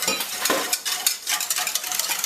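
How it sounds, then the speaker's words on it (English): Brisk, rapid whisking of a warm milk and butter mixture in a bowl, a steady scraping metallic clatter heard close up with no speech. "I'm just going to whisk that in here"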